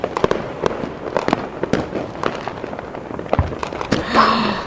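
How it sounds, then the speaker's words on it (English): Fourth of July fireworks pop and crackle in a rapid string of sharp bursts, some near and loud and others fainter, ending with a fizzing shower. "I love fireworks."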